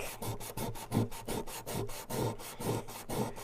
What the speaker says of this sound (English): now I'm just going in with a tiny piece of sandpaper and trying just to get at that little nick.